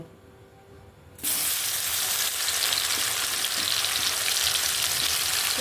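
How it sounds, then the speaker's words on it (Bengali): Okra (bhindi) is dropped into hot oil and bursts into a loud, bright, continuous sizzle after a quiet moment, frying steadily with no talking. "এবার আমি ভেন্ডিগুলো ভেজে নেব"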